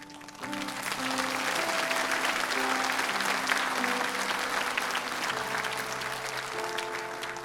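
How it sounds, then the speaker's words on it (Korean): A church congregation at a Sunday service breaks into sustained applause, a dense, steady clatter of many hands lasting several seconds with a soft tonal background underneath, and no speech. "우리 잠깐 일어서시면 우리 박수로 축복해 주시면 좋겠습니다"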